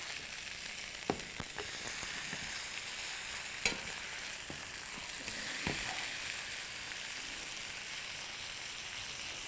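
Steaks sizzle steadily in their pan juices with a broad, even frying hiss, broken by a few soft clicks and knocks from the pan, with no one speaking.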